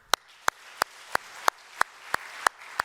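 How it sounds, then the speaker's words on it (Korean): The congregation at a Korean church worship service claps in unison, nine sharp, evenly spaced claps in a steady beat of about three per second with quiet between them. "한 번 더 박수."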